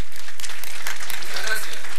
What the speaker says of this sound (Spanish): los recibo con un fuerte aplauso de mi pueblo